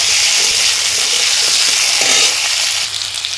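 Potatoes fry loudly in a pan while being stirred, a dense, steady sizzle with faint scraping of the stirring running throughout and easing slightly at the end.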